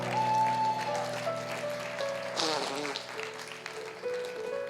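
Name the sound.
congregation applauding and cheering for Jesus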